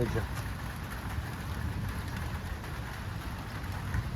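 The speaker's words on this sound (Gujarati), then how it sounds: "1:16 થઈ ગઈ ને તોય વરસાદ આવે છે." Rain falling steadily outdoors, a dense continuous patter heard at a moderate distance with a faint vehicle-like rumble beneath it, no clear speech.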